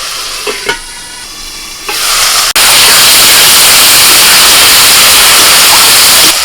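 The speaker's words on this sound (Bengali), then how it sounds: "মশলার মধ্যে অল্প একটু জল দিচ্ছি" Loud, sudden sizzle and hiss as a little water hits hot spice masala frying in a pan, following quieter stirring and scraping, then a steady roar of bubbling steam.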